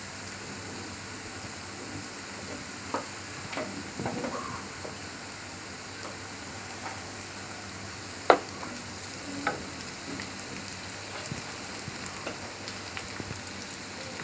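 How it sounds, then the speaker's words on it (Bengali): Surma fish fries with browned onions in a pan: a faint, steady sizzling hiss runs throughout, with occasional light clinks and scrapes of stirring. "মাছটা দিয়ে পেঁয়াজের সাথে একটু ভালো করে ভেজে নেব।"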